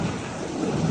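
A deep rumble of thunder rolls under heavy rain during a lightning storm, a brief loud low-frequency roar blended with steady rainfall hiss.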